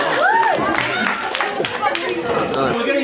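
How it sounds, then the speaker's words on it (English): Students in a classroom give a short round of applause during an electronics lesson on building a music synthesizer. Scattered clapping is mixed with lively chatter and voices throughout. "A big round of applause"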